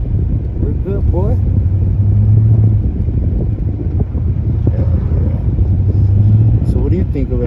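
A big-block Chevy 454 V8 in a box Chevy rumbles low and steady beneath close conversation and wind buffeting, with the engine note swelling now and then.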